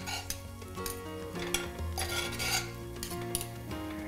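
Minced fresh herbs tossed into a hot pan for a vegetable and grain bowl, with steady sizzling and scraping, stirring utensil clinks close by and continuous, with no talking.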